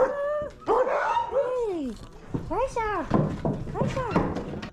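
Husky sled dogs in the Arctic bark and whimper close by, a run of rising and falling yelps and whines mixed with bursts of rough barking.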